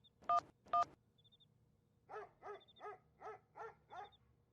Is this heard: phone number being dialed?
yes